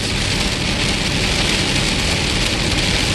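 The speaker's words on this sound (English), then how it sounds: "you probably can't hear me over the rain" Heavy rain pours steadily onto a moving hotshot truck on the highway, a dense, loud, unbroken hiss with low road rumble beneath and no pauses.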